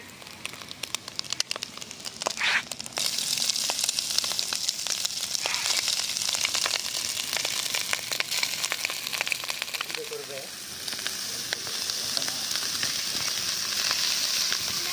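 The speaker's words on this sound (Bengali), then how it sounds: "এবার ভাতটা আমরা ঢেলে দেব।" Cooked rice tipped into a hot pan for fried rice, sizzling and crackling steadily up close, with scattered clinks and scrapes of a utensil and a brief voice under the frying.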